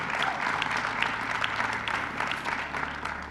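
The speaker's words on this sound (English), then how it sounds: "Let's give another round of applause." An audience at a hall of fame induction ceremony claps in a sustained, even round of applause, many hands blending into a continuous patter with a few sharper individual claps standing out.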